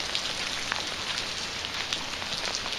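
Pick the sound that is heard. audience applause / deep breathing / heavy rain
heavy rain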